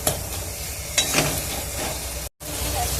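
Spices fry in hot oil with a pinch of salt for masala cholar dal, giving a continuous, close, loud sizzle that briefly cuts out near the end.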